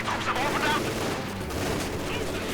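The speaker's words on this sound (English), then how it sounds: "cutting off the retreat path with his own machine gun" Machine gun fire rattles in a real-time strategy video game, with dense rapid bursts and explosive cracks layered together, and battle noise and a voice mixed underneath.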